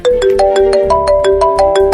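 A mobile phone ringtone sounds for an incoming call, a loud repeating electronic melody of bright, evenly spaced tones that rings steadily throughout with no voices.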